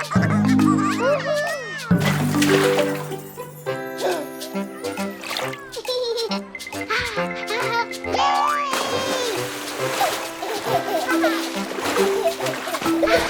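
Children splash about in a water park, with bursts of splatter and dribbling water running under steady, upbeat children's singing and music throughout.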